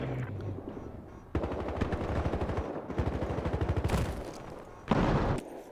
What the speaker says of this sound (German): Ein Panzertruck mit schwerem Geschütz.